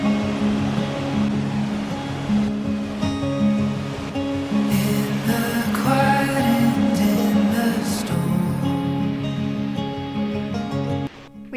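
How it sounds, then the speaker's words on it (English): A waterfall in Glacier National Park roars as a steady, broad rush of falling water, loud and continuous throughout with no talking over it. "We followed the trail to a beautiful waterfall"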